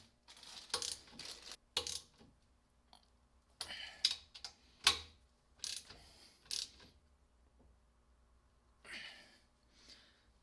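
Bolts are fitted into the front mount of a KFI winch mount on a Honda Pioneer 1000 UTV, heard as close metallic clicks, rattles and ratcheting bursts separated by quiet gaps.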